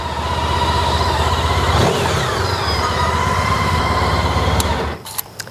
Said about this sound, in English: start the bike and let it idle for a bit.